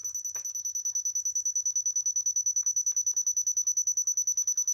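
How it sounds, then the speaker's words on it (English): A steady, rapid electronic beeping from a Dovoh DR1 laser line receiver, high-pitched and evenly pulsed, continues alone throughout with faint background rumble. "You can hear it beeping. It's starting to see the line"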